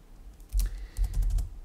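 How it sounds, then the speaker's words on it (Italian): Computer keyboard keys clack close up while someone types in a browser search bar, a quick burst of a few taps followed by a denser run of keystrokes, heard alone without speech. "digito un punto esclamativo"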